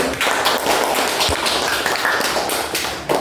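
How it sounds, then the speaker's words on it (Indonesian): A classroom of pupils claps in applause, a steady burst of many overlapping hand claps filling the whole stretch, close and fairly loud. "Tepuk tangan dulu."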